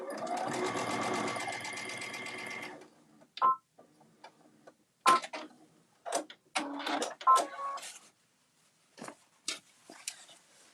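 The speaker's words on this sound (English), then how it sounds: "I'm just going to sew the straps in place" A sewing machine stitches bag straps in one steady run of about three seconds, then stops, followed by scattered clicks and soft handling noises.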